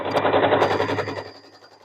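Usha Janome Allure DLX sewing machine overlock stitching fabric, a rapid close mechanical rattle of the needle running for about a second before slowing and fading.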